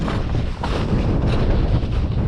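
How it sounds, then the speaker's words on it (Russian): A strong, steady wind roars across a frozen river in winter, buffeting the microphone with dense, continuous rushing noise throughout, loud and unbroken. "Очень сильный ветер, друзья."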